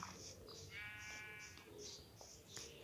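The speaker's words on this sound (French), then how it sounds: "Un mouton." A sheep in the Minecraft video game gives one wavering bleat, faint and mid-distance, over a soft game ambience with light periodic chirps.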